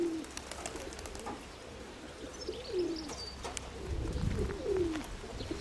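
Pigeons coo softly several times, low throaty calls repeating amid faint outdoor background noise.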